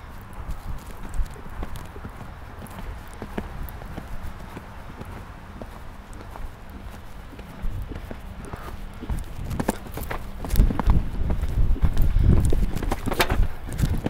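A horse being ridden in a coaching session gallops and speeds up, hooves clip-clopping steadily at a moderate distance, growing louder and heavier toward the end, with faint background noise and no clear talk.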